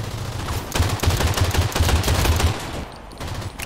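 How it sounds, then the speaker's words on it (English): Close-range shotgun blasts in a team-based multiplayer shooter video game, a fast string of loud, punchy shots roughly every fraction of a second for about two and a half seconds, then a brief quieter pause and one more burst. "That shotgun in close range is really good"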